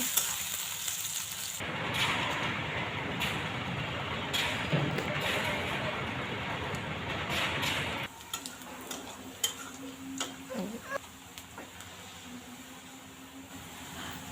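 Chopped onions frying in a pan, a soft continuous sizzle for several seconds that drops away into quieter scattered clicks and taps of kitchen handling.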